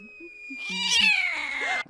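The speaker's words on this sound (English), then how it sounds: "Buddy the Bloodhound, who is immediately chasing a cat up a tree" A cat in the movie Son of the Mask, chased up a tree by a bloodhound, gives a loud, drawn-out, strained meow that rises and falls against a musical background.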